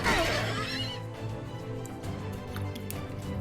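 A horse in a video game whinnies loudly at the start, a rising and falling neigh followed by game background noise.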